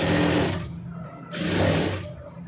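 A sewing machine stitches a plain round-neck blouse in two short bursts of fast whirring, separated by a brief pause, close and clear with no talk.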